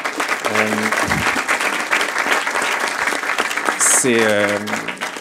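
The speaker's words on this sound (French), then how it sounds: "On va pouvoir applaudir Amir et le remercier" An audience applauds steadily and loudly after a talk on artificial intelligence, the clapping sustained throughout with a few voices calling out over it.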